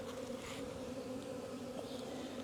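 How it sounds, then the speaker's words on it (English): Dense, continuous droning buzz of a honeybee swarm flying close by, steady and unbroken. "everything left up there is flying bees, just flying around"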